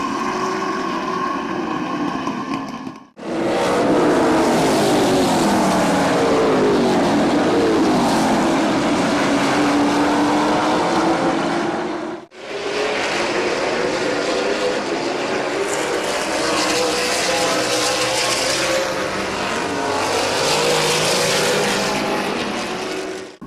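Race cars roar around the oval at Midvale Speedway during a late-race stint, several engines loud and close with Doppler swells as the pack passes, one sharp break in the sound, then a steady din of the field under way.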